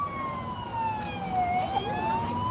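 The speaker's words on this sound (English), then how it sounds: "You'll see a fire engine coming down from that direction there." A fire engine siren passing through a street in Queenstown: a loud, wailing tone that sweeps slowly down and back up, continuous over steady traffic rumble.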